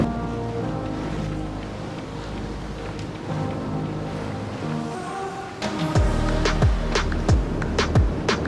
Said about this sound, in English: Finally, we have some wind.